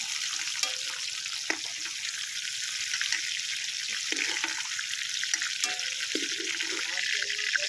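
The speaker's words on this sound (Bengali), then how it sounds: "ডাঁটাগুলো হালকা করে ভেজে নিয়েছি আর তুলে নিচ্ছি" Drumstick stalks frying in oil, a steady bright sizzle close by while a person talks over it.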